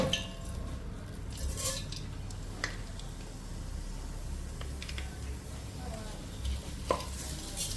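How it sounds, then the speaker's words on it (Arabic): Vermicelli toasting and stirred in a pan for Iraqi quzi, a steady close scrape and soft sizzle with occasional clicks, no talk. "وهنا راح نحمس الشعرية هسه"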